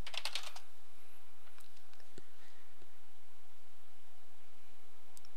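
Typing a terminal command on a computer keyboard: a quick burst of clustered key taps at the start, then scattered single clicks over a quiet steady hum.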